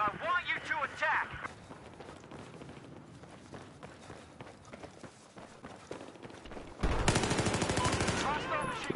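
Bursts of automatic gunfire in Battlefield 4 Hardline (Getaway DLC) play under radio callouts and voices, growing into a loud, dense burst of machine gun fire near the end.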